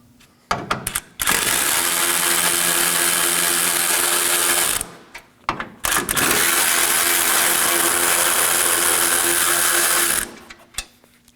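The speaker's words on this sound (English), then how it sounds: "Now I'm going to remove my 4 12mm core support bolts." Ratchet wrench backing out 12mm core support bolts on a 2013-2019 Nissan Sentra during AC condenser replacement, heard as two long, close, continuous bursts of rapid mechanical clicking separated by a short pause.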